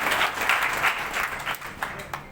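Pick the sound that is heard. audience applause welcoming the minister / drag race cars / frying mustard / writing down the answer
audience applause welcoming the minister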